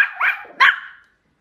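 A person imitates a dog barking, giving two short, loud, close barks in quick succession with no other sound around them.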